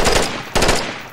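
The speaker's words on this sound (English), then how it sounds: "Oh, it's burst fire." Gunfire in the VR shooter Onward, two close, loud bursts of rapid shots roughly half a second apart, each burst a quick cluster of sharp cracks that rings out briefly.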